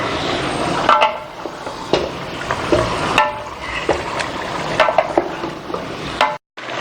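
A large 5 kg batch of qorma meat is stirred and fried in a big pot, with repeated scraping strokes, clinks of the spoon against metal and a steady frying sizzle, loud and close, ending in a sudden brief silence.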